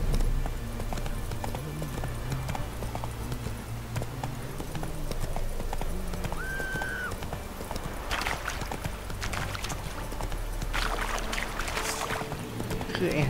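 Horse hooves clop in a steady galloping rhythm in The Witcher 3: Wild Hunt, a continuous close beat running under game music, a brief tonal sound and short rustling bursts.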